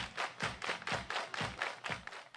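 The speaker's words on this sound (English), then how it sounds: "Everybody clap your hands." Students clap their hands in unison at an outdoor dance night in Legacy Park, about ten sharp, fairly even claps in quick succession with faint crowd noise between.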